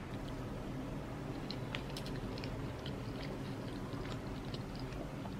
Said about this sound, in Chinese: 我要继续吃刚才宝师傅这个，然后压烂了的